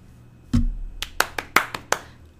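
Hand clapping, a sharp single clap followed by a short run of uneven claps, close and distinct against a quiet background with no talking.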